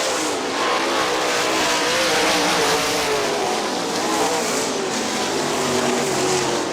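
Sprint cars race around Kokomo Speedway, a dense, continuous roar of high-revving engines from a pack of cars, loud and steady without a break.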